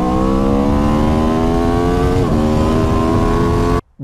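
A BMW S1000RR superbike revs hard up through the gears. The loud, close engine climbs in pitch, cuts briefly at a shift, climbs again, then stops abruptly near the end.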